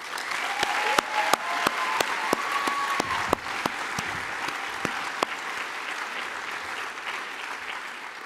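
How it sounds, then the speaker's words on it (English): Convention crowd at a South Carolina FFA session breaks into sustained, loud applause, dense clapping filling the hall for the full stretch with a few sharper claps standing out early on. "this crowd deserves a huge round of applause"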